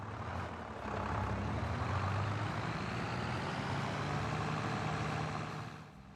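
A heavy tractor engine in a farming video game drones loudly and continuously under load, a rough, strained low growl that holds steady before easing off slightly at the end.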